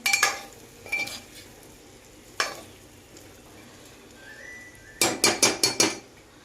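Drumstick curry being stirred in a pot: a few scattered spoon scrapes and clinks, then a quick burst of five sharp metallic knocks near the end as the lid goes on over a soft sizzle.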